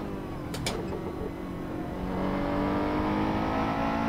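A race car engine howls steadily through a lap in a sim racing game, two sharp clicks early on, then the pitch climbs into a stronger, sustained whine as it accelerates, loud and close with no talk.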